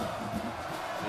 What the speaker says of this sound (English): Midshipmen cheering on their classmates